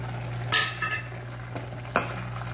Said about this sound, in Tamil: இப்போ வந்து இந்த வெள்ளத்தை சேர்த்துடுறேன்.